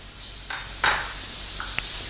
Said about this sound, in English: The oil is hot, so let's quickly add the paste to the hot oil.